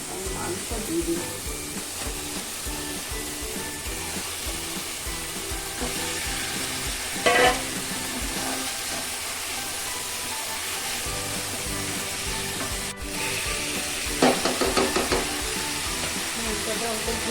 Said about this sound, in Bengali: এখন দেখুন আমি মাংস দিয়ে দিই।